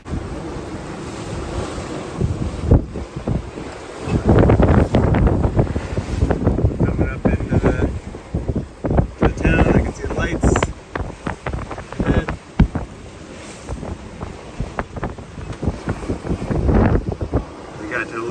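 Wind roars across the microphone on a sailboat at sea while waves surge and slap against the hull in irregular bursts; loud, gusty, and close, with a voice speaking faintly beneath.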